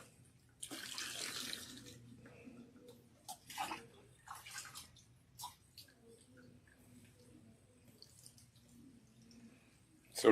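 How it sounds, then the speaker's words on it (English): Water from a tap splashes and runs while shampooed hair is rinsed, coming in uneven bursts with quieter gaps and faint drips, close by, with a voice murmuring softly in the background. "once you shampoo, you rinse nicely. You rinse thoroughly."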